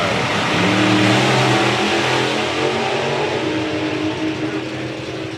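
Drag racing cars, the Rebel and the Topolino, make a run at a nostalgia drag meet, loud engines roaring and shifting with a mechanical rasp that slowly fades into the distance.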